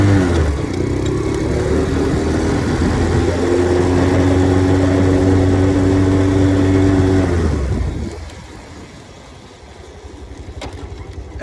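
A Grom clone motorcycle on a ride to the city holds a steady, loud engine drone with rising pitch, then eases off as wind rush takes over and the engine fades lower.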